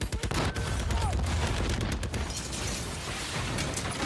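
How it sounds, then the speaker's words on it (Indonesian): Dense, continuous battle noise from the film Fury: rapid gunfire bursts and heavy booming tank cannon blasts pile up into a loud, sustained barrage. "menembaki mereka dengan rudal tank dan tembakan senjata"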